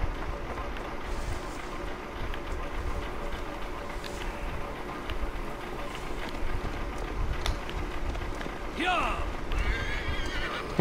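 A horse whinnies loudly near the end among clopping hooves and rough ambient noise in the video game Assassin's Creed Valhalla, while someone talks over the scene.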